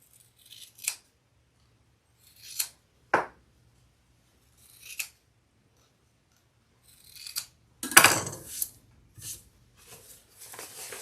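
Scissors trim the fabric corners of a sewn handbag in a series of short, crisp snips spaced apart, with a quick cluster of cuts near the end, close and quiet against near silence.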